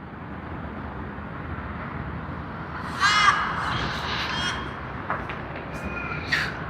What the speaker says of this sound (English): whichever bird that is making such noise